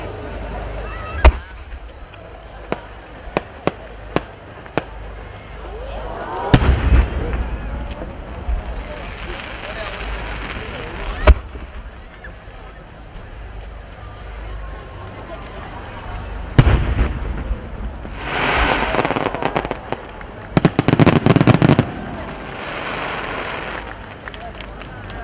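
Fireworks display at the 2011 Omagari fireworks festival in Japan, with sharp distant launch pops and booming bursts, scattered crackling and a few dense clusters of explosions over crowd and ambient noise.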